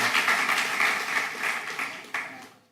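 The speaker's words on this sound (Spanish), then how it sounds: "Denle ese fuerte aplauso al Rey," A church congregation applauds strongly during a sermon, with dense, steady clapping from many hands filling the room, then easing off and tailing away toward the end.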